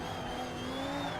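A car in the Assetto Corsa racing game oversteers, its tires squealing in a thin, sustained whine over a steady engine drone that stays close and even for about a second.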